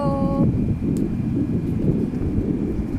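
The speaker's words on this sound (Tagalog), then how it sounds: "ayan, ang ganda ng hangin." Steady broadband wind rushing across the microphone on Robertson Bridge in Singapore, low and continuous, with a brief faint tonal chime at the start.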